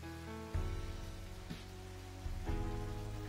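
Steady rain falling outdoors at night, a dense even patter with sharper bursts as drops hit nearby surfaces, layered over a low rumble.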